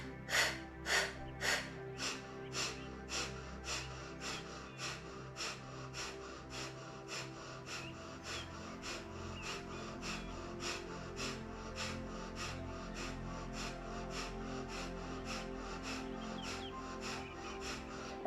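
Rapid, forceful rhythmic breaths during a breathwork exercise, fast pumping exhales at first and then a long steady series of evenly spaced puffs, close and fairly loud, no talking.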